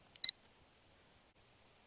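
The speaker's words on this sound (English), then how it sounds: "when you turn the unit on or off or change any of these functions here, it beeps" A compact handheld meter gives a single short, high electronic beep as it is switched on or off, crisp and isolated against near silence.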